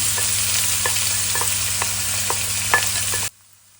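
Chopped white onion fries steadily in hot oil for a tofu curry, a dense continuous sizzle with occasional stirring clicks and pops, close and loud, cutting off abruptly near the end.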